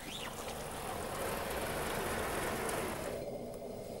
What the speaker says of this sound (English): In a downpour, you don't even have to drop the sail.